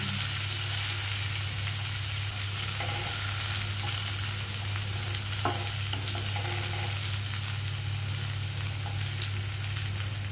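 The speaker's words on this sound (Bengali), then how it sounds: "এভাবে আমি কমিয়ে বাড়িয়ে ভালো করে আলু আর পেঁপেটাকে ভেজে নিচ্ছি।" Potato and papaya pieces frying in a pan, a constant close sizzle with occasional scraping knocks from a stirring utensil, alone and without voices.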